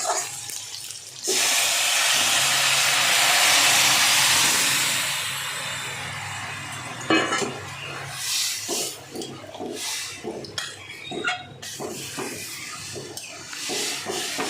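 Lentils poured into a pan of fried ginger and softened tomato for a spinach dal, a loud steady sizzling hiss for several seconds that settles into quieter bubbling and clinks, with no talking.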